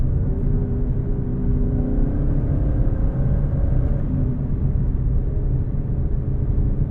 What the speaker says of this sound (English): Give it a downshift here.